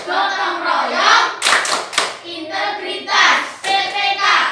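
A classroom group claps together in quick rhythmic bursts for a Tepuk PPK clap chant, with voices chanting in between the claps.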